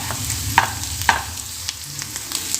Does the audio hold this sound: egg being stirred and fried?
yes